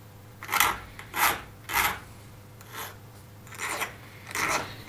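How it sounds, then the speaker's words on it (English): Riffler file rasping along metal edges to remove burrs, in six separate strokes, each a short rough scrape at close range with brief pauses between. No one talks. "Using one of these weird shaped riffler files, clean out the back, the bottom of the hole."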